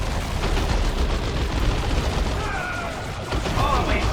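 Dense gunfire crackles in the real-time strategy game Dawn of War II Retribution, with Eldar troops shooting in a chaotic battle, mixed with rumbling booms and heard under other game noise.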